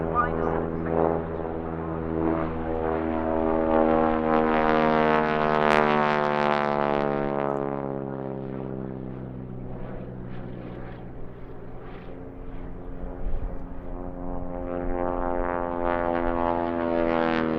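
A T6 propeller trainer performs aerobatics at an airshow, its engine a loud, sustained drone that rises and falls in pitch as it passes, with a voice talking over it.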